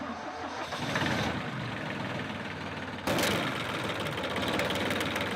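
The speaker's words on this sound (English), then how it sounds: "Ah, the sweet sound of stalling. Sounds like you've run out of diesel." A diesel engine cranks over with a universal starter, catches briefly and then stalls as the fuel runs out, the mechanical clatter fairly loud and close throughout, with a sharp change in tone partway as it cuts.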